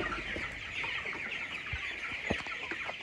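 A large flock of chickens crowded together on a poultry farm, clucking in a dense, continuous chorus of overlapping calls, with no voices.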